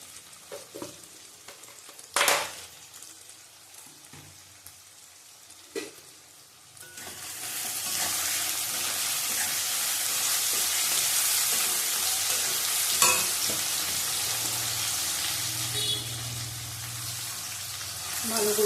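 After a few quiet knocks, a steady hiss of frying swells up and holds as onions brown with a little sugar in a pan for panch phoron yogurt chicken, with occasional stirring taps.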